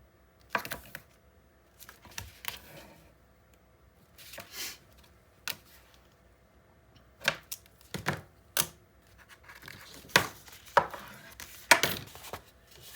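Paper is scored on a score board for a mini album panel, producing a series of sharp, faint scraping and tapping strokes in irregular bursts against a quiet background.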